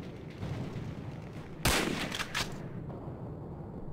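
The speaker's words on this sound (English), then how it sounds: "I do believe the sound effect that you gave this rifle" A single sharp, loud crack from a scoped rifle in Hidden & Dangerous, followed by a quick echoing tail and a smaller second report over a low ambient hiss.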